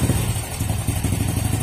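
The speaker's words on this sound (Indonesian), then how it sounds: "Ini stasionernya pincang, mesin matian, digas gitu." Carbureted motorcycle engine idling roughly after a mistuned air screw, a loud close low thrum with an uneven, stumbling beat.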